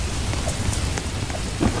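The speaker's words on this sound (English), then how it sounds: "Oh, it's raining." Steady, heavy rain falls in the Roblox Jailbreak video game, a loud, continuous hiss of drops on surfaces with faint low rumbles, alone and without voices, for a brief moment.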